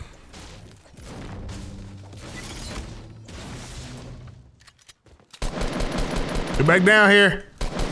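Rapid gunfire from a Fortnite battle royale match, shots fired through a wall, bursting loud and close in a dense rattle near the end, with a player's voice talking over quieter game sounds before it.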